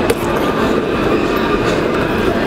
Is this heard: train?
yes